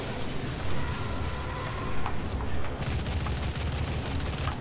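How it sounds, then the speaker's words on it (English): Dense video-game gunfire from enemies in Doom, a continuous rattling barrage of rapid shots with heavy low rumble and a few sharper bursts, loud and steady throughout with no talking. "Come on, who's shooting? Stop shooting."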